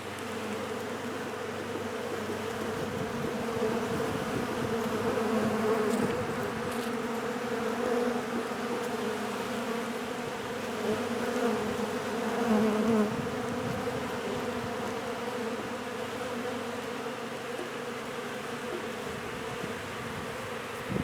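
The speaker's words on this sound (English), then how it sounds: "Lots and lots and lots of bees." A dense, steady buzzing of many bees during a bee tree trap-out fills the air continuously, close and fairly loud, with individual insects droning past now and then.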